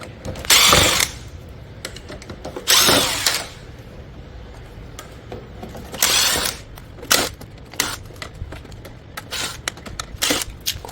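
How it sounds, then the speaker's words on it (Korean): Screws are removed from the vent grille of a Samsung two-vent windless air conditioner with a power screwdriver, giving a few short whirring bursts between scattered clicks and rattles, close up with no talk. "나사들을 제거해주고 송풍 그릴과 송풍구를 잡아주는 나사 3개도 같이 제거해 주도록 하겠습니다."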